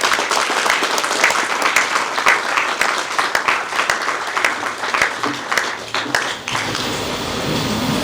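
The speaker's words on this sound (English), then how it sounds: "Let's give him a round of applause" A large conference audience applauds steadily for several seconds at a session on art, pop culture and social movements in Africa, the dense clapping loud and close before thinning out toward the end.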